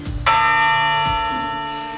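A church bell in Balbieriškis, Lithuania, sounds one loud, clear strike close by, its ringing metallic tone holding steady and slowly fading over about two seconds, with a softer second tap partway through the decay.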